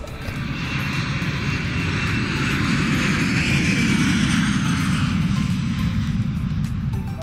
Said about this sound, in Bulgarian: И самолета ще кацне и там.